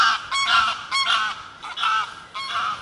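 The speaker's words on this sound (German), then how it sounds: "Die Enten sind vorbeigeflogen." Waterfowl flying past over a lakeside motorhome site at Plauer See, giving repeated nasal honks in four loud bursts with brief gaps, close and clear with no talking.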